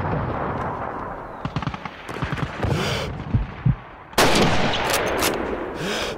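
Gunfire crackles in the Call of Duty 2 Battle of Stalingrad, with scattered distant shots and thuds before a loud, booming sniper shot, followed by more shots and echoing battle noise.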